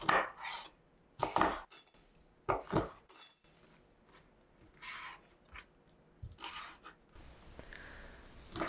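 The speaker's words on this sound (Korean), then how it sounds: "오징어도 야채와 비슷한 모양과 크기로 잘라요." A knife cuts squid into pieces on a board for a Korean stir-fried squid dish. Distinct close chops and taps come in irregular bursts with quiet pauses between them, and no one talks.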